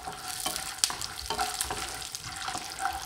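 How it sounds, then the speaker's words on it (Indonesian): Peanuts and candlenuts fry together in hot oil, giving a steady close sizzle with a few sharp pops and scraping stirs, and no voices. "Kemudian 5 butir kemiri langsung digoreng bersamaan dengan kacang."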